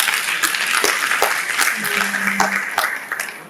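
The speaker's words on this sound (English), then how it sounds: "Another round of applause." Conference audience applause, a dense steady wash of many hands clapping that carries on throughout, with voices faintly underneath.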